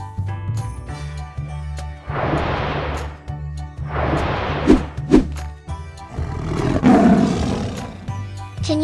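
A tiger gives three deep, drawn-out roars, each lasting about a second or more, loud and close, with short quiet gaps and low rumbling between them.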